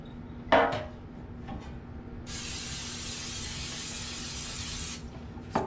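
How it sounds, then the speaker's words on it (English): A steady aerosol spray of olive oil hisses for nearly three seconds, close by, onto metal baking pans after a couple of light clinks of the pans. "Spray them pans with vegetable oil."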